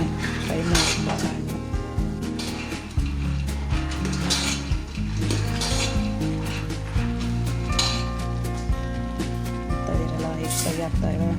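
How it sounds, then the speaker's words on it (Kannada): Avarekalu (field beans) fry in a pan for sambar, village style, while a utensil scrapes and clinks steadily against the metal as it is stirred, with a soft sizzle underneath and a person talking over it. "ಫ್ರೈ ಆಗ್ತಾಯಿವೆ. ಇದೇ ಥರ ತಿರುಗಿಸ್ತಾ ಇರಬೇಕು."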